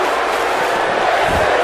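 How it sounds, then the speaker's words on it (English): A wrestling event crowd chants in unison, a loud, sustained roar of many voices filling the arena without a break. "the crowd breaks out in a "this is awesome" chant"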